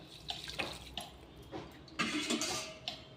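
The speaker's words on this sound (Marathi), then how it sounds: "यामध्ये आता आपण गरम पाणी टाकून घेणार आहोत" Hot water is poured into a wheat and jaggery kheer mixture, making faint, close splashing bursts of liquid, with several short pours in quick succession.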